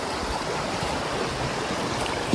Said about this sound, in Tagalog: Nakabalik na ako sa aming ilog